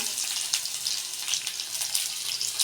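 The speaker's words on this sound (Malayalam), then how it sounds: "നമ്മളിതാ ഉള്ളി ഇടുന്നുണ്ട് കേട്ടോ ഉള്ളി ഒന്ന് മുരിഞ്ഞ് വരട്ടെ" Onions hit hot coconut oil in a pan and give off a steady, bright sizzle with crackling pops, moderately close and constant throughout.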